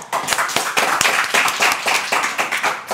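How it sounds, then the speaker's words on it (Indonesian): An audience at a comedy talk show claps together, brisk, close and loud, with individual hand claps standing out in a steady patter for about three seconds. "tepuk tangan dulu semuanya"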